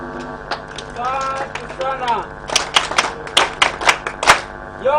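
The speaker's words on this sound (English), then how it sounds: "you should give them a hand clap" Scattered hand claps at an annual general meeting, a few sharp separate claps building into a brief irregular burst, with a voice talking at the start.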